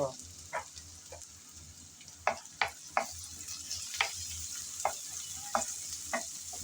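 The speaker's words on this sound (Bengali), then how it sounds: "সেই গরম তেলে এখন দিয়ে দিলাম পেঁয়াজ কুচি। পেঁয়াজ কুচি হালকা করে নেড়ে চেড়ে ভেজে নেব।" Chopped onion fries in hot oil previously used for frying fish, giving a steady sizzle with sharp spoon scrapes and stirring clicks recurring every second or so.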